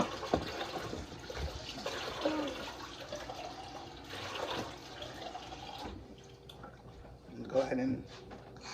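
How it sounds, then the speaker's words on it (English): Water trickles and splashes into a pan of candied yams, a faint ongoing pour with drips under a voice that talks throughout. "add some water to my candy yams"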